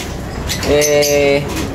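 A pigeon gives a single soft, low coo, close by, with a faint voice in the background.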